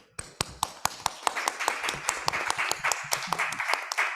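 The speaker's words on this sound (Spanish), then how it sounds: "Damos un aplauso al doctor." Audience members at a medical congress applaud a speaker. The clapping is close and fairly sparse, building from a few sharp claps into a denser but still modest round.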